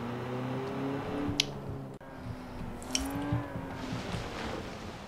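Ferrari sports car driving in Forza Horizon 4, a steady engine drone with shifting pitch and brief tyre squeal, heard alone at a moderate level.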